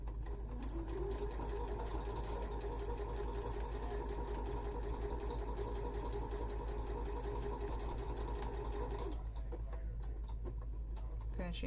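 A sewing machine stitches a full face mask with a steady, fast mechanical whir and rhythmic needle chatter, close and continuous throughout, then the motor briefly slows near the end.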